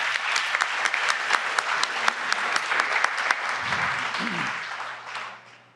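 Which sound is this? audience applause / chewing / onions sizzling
audience applause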